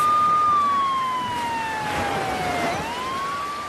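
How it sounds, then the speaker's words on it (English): A single ambulance siren wails loudly on its own, its pitch sliding slowly downward and then rising again. "Don't worry, I'll call for an ambulance."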